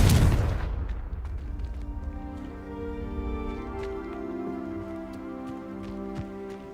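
A single loud booming blast from the Confringo explosion spell in the video game Hogwarts Legacy, opening with a burst that decays into a long ringing, tonal tail with faint crackles afterward.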